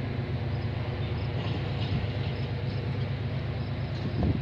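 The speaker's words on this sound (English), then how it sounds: "we got an eastbound train coming down the line" A steady low rumble and rolling clatter of CN freight train 422 passing eastbound at Bronte Street in Milton, Ontario, continuous and fairly close, with faint squeals rising near the end.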